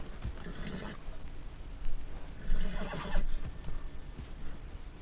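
A horse, probably in a video game, neighs and snorts amid a noisy rumbling background, with short bursts of whinnying rising and falling over a few seconds.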